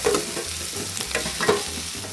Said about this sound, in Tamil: இது எல்லாத்தையும் சேர்த்து நல்லா வதக்கிக்கலாம்.